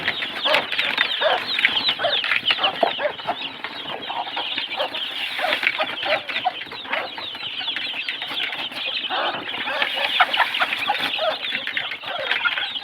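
A flock of thirteen-day-old chicks at a poultry farm chirp and cluck continuously. The chatter is dense, close and overlapping, with no voices.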